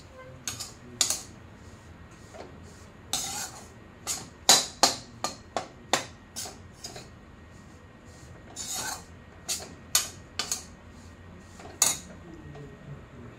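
Fenugreek being stirred into flour in a pan, giving a run of crisp, irregular scraping and tapping clicks from a spoon against the pan, close and fairly quiet, with short pauses between bursts.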